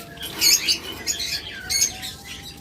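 A pair of cockatiels in a bird shop chirps in short, bright, repeated calls over a low background hum, fairly close and with no talk.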